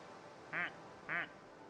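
Two short, clear duck quacks from a video game, spaced about half a second apart, loud over a faint steady background hum.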